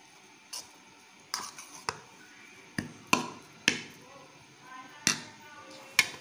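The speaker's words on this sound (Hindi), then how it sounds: "अब इसको मिक्स कर रही है महा" Mashed egg and coriander are being mixed in a bowl, giving a quiet series of sharp clinks and taps from a utensil against the bowl. The taps come at an irregular rhythm, with soft scraping between them.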